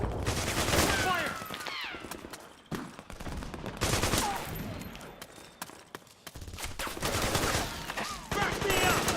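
Rapid gunfire from the video game Metal Gear Solid 4, with bursts of automatic fire and scattered shots that recur loudly across the scene, mixed with shouted voices and game effects.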